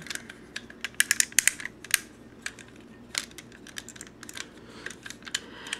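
Plastic parts of a Power Rangers Wild Force Megazord toy click and snap as they are folded into the body, a quick irregular run of sharp, close ticks and taps with no voices.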